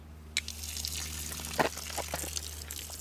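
A low-pressure water jet rinses the lower part of a car door during detailing. A steady hissing spray runs throughout, with a few sharp splashes and spatters on top.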